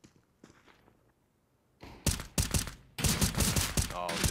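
Rapid gunfire from a Counter-Strike match on the Dust2 map at a professional Major tournament, with sharp bursts of shots growing louder and denser after a quieter start.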